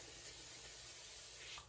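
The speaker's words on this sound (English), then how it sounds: "So I'm gonna spray my 8x8" A steady spray hisses from an aerosol can of cooking spray onto an 8x8 baking pan for over a second, close and continuous, then cuts off.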